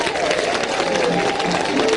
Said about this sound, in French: Et les gens applaudissent.